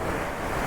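Heavy torrent of rushing water below a roadside bridge on a forest road to Athirapally, a steady broadband roar filling the short moment with no voices over it.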